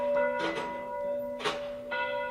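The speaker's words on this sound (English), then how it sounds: "The bell on that church, heard for the first time in 2 years." A church bell rings at a distance, its sustained tone humming between a few clanging strikes.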